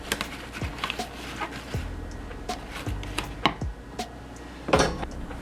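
An apple is cored on a kitchen surface, giving scattered close clicks, taps and short scraping cuts, fairly quiet, with one sharper burst of crunching clatter near the end.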